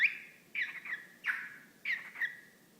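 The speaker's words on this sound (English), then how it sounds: "Hey, little bird." A small bird gives four bright, squawky chirps, evenly spaced and close by, with no other sound around them.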